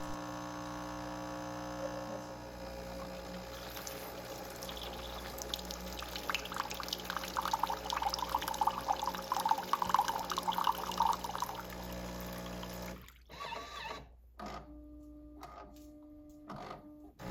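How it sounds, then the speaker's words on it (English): A Jura S8 automatic coffee machine runs its water rinse cycle, a steady mechanical hum with pouring, splashing water that swells in the middle, then cuts to quiet with a few short pump bursts near the end. "Hitting next, the rinse process begins."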